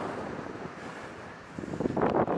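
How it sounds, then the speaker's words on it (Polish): Strong wind gusts buffet the microphone on a snowy winter mountain trail to Śnieżnik, a steady roar that swells into louder, rougher blasts toward the end, with no voices. "Bo to sobie strasznie wieje."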